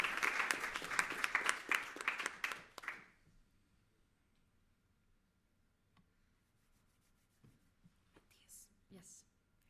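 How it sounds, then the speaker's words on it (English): A conference audience in Brussels applauds itself, dense clapping for about three seconds that cuts off abruptly into a near-silent room with only faint rustling and a couple of soft knocks. "A round of applause for yourselves"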